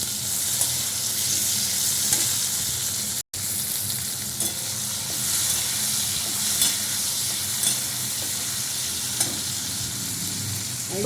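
Tomato added to onions frying in oil sizzles steadily up close while a spoon stirs and scrapes the pan, with a brief break in the sound early on.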